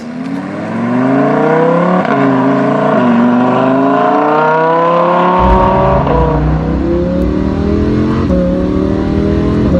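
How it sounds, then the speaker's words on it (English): A Lamborghini Huracan's engine revs hard through rapid dual-clutch upshifts, its loud droning note climbing repeatedly in pitch and dropping sharply at each quick shift, heard close and continuous without talk. "the shifts, you can hear them, the shifts are unbelievably fast"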